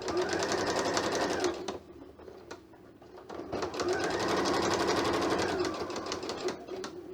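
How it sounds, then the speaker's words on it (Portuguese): Sewing machine stitching a machine cover, running steadily forward, pausing briefly, then running again in reverse, a close, even mechanical whir with no talking. "dou uns pontinhos para frente, faço o retrocesso e continuo a costura em toda essa extensão"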